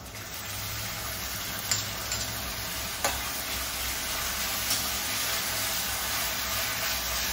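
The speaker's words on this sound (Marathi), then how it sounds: "हे बघा, कांदा होत आलाय. आता आपल्याला हे हिरवं वाटण टाकायचंय." Chopped onion frying in a pan as green coriander-mint paste goes in and is stirred, made for green pea rice; a steady broadband sizzle runs throughout, with a few faint spoon scrapes and taps and no talking.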